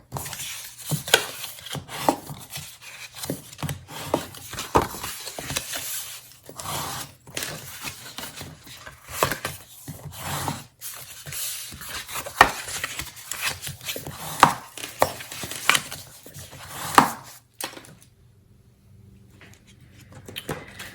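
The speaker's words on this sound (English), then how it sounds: "now we're going to fold on all the score lines and burnish with our bone folder" Paper is folded along score lines and burnished with a bone folder while making a gift box, producing soft irregular rubbing, scraping and creasing sounds close by, with quiet pauses between strokes.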